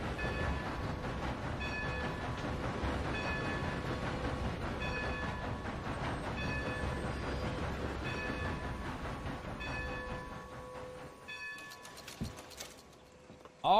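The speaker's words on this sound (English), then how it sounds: "we're indulging a little bit by taking this train to Rhodes" A train rolls along the rails in Red Dead Redemption 2, its steady rumble and rhythmic wheel clatter continuing under faint background tones, thinning out near the end before a brief louder burst.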